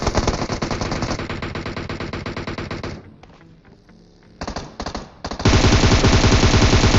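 A picked-up gun in PUBG fires rapid, loud automatic bursts, pauses briefly with a few scattered shots, then unleashes another sustained, heavy stream of gunfire.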